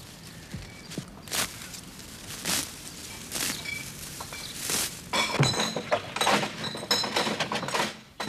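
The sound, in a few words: glass milk bottles clinking as they are handled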